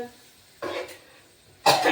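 Two short coughs from a person, close to the microphone, separated by about a second of quiet.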